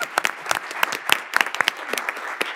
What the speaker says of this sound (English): They were definitely getting a round of applause.